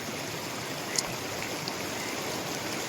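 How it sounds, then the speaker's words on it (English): A river flowing steadily along the Pacific Crest Trail, a soft, constant wash of water heard nearby at low level, with no talking. "listening to the river around me"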